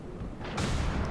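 Incoming naval shell fire in World of Warships, a brief muffled boom and rumbling impact swelling over steady low background noise, with a sharp burst partway through.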